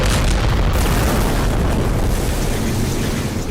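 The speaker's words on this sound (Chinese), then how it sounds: "在寄生虫身边引发剧烈爆炸。" Loud, sustained rumbling blasts from a barrage of rockets fired by an animated mutant police-officer figure, exploding near swarming parasites in a Skibidi Toilet zombie-universe cartoon battle, dense and continuous with no talk.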